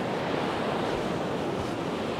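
Surf breaking steadily on a pebble beach at high water on the Bristol Channel, a continuous close wash of rolling waves with some wind buffeting the microphone.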